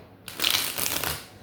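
Tarot cards being shuffled in a burst of papery riffling and crunching that swells after a quiet start and tapers off, close and fairly loud.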